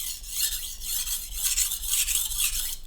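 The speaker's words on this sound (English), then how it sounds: "I just simply run the knife a few passes on the stone really fast" A knife gets quick deburring passes across a natural Japanese Amakusa whetstone: a rapid series of bright, rasping strokes, close and steady, about five or six passes back and forth with no talking.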